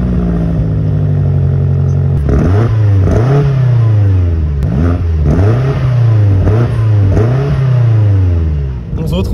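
A BMW M8 Competition Gran Coupe with 625 hp pulling hard up a mountain road in the rain: the engine note climbs repeatedly through quick gear shifts, loud and close from inside the cabin.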